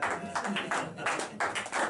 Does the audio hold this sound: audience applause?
yes